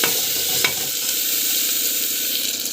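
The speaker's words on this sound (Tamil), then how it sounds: "பூண்டு போட்டுட்டு நல்லா வந்து வதக்கிட்டு" Mustard seeds, cumin, onion and garlic sautéing in hot oil in a pan for a pregnancy-friendly dish. A loud, continuous sizzle with a faint stir or scrape near the start, close up and with no voices.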